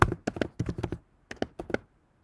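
Quick bursts of keystrokes on a computer keyboard as a number is typed in, two short clusters of clicky taps separated by a brief pause, close and clear with no talking.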